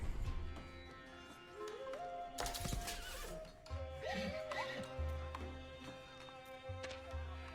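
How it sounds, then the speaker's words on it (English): Horses whinny and neigh in a ranked strategy video game match, several loud calls mixed with clattering hooves and battle clatter over a steady hum of game sounds. "got some horses circling around the back"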